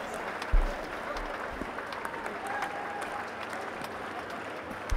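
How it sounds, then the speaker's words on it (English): Visiting cricket fans in the stands at a Pakistan vs England Test match clap steadily, a broad distant ripple of applause that stays at an even level throughout. "gratefully applauded by the visiting contingent here in the stands"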